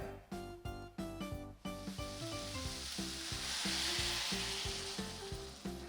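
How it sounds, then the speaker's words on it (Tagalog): A smooth tofu mixture is poured slowly into a hot cooking pan and sizzles. The frying hiss swells midway and holds steady over a background of continuous music. "At dahan-dahan ko lang ito na binubuhos dun sa lutuan."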